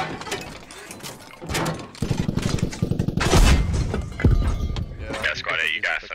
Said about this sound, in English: That explosion is so nice.